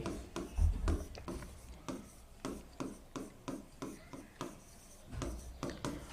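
A simple line is written on a board in quick, rhythmic strokes, each one a soft scratchy rub. The strokes repeat at close range with short pauses between them.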